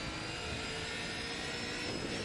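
Castrol Holden Commodore touring car racing close behind in wet conditions at Bathurst, in Assetto Corsa: a steady, loud engine roar and tyre spray fill the whole stretch without a break.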